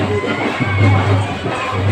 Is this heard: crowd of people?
yes